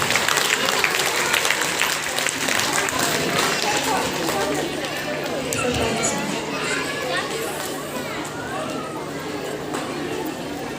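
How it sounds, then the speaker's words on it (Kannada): Loud, sustained applause from a school audience at an Aksharabhyasa ceremony sends off a departing guest, a dense wash of clapping lasting throughout with crowd noise mixed in. "ನೀವೆಲ್ಲರ ಜೋರಾದ ಚಪ್ಪಾಳೆಯೊಂದಿಗೆ ಅವರನ್ನು ಕಳಿಸಿಕೊಳ್ಳೋಣ"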